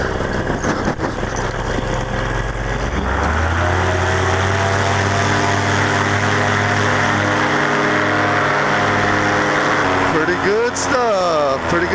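A paramotor engine drones loudly and continuously at close range during takeoff and climbs in pitch as the throttle opens. Wind noise and a voice can be heard underneath.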